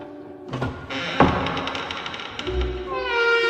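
A room door's lock worked open from outside as a horror-story sound effect: a sharp clack and thud, a stretch of rattling metal, then a low creak, moderately loud under faint background drone.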